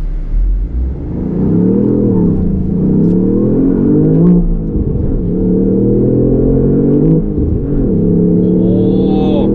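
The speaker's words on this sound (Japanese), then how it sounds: "サーキットモードオンで、全開加速していきたいと思います" A Lexus LBX Morizo RR or GR Yaris RZ High Performance with a manual gearbox accelerates at full throttle in circuit mode. The engine roars close and loud, its pitch climbing through two upshifts with no talking.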